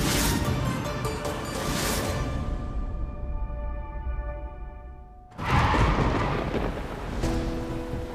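Heavy rain pours steadily during a thunderstorm, a loud broadband hiss that briefly eases before a sharp, close crash of thunder bursts in and rolls on under the downpour.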